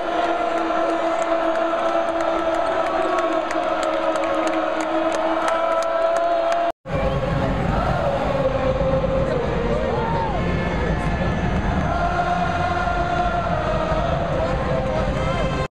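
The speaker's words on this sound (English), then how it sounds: "Listen, everyone booing Duke." Basketball crowd booing Duke near halftime in an arena, a loud sustained roar of many voices filling the space throughout, with a brief dropout midway and some voices standing out nearby.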